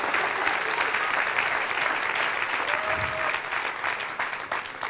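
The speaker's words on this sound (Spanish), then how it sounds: "Dele aplauso al Señor" A church congregation claps steadily in praise during a sermon, with dense, even applause filling the whole stretch and a faint voice briefly rising through it.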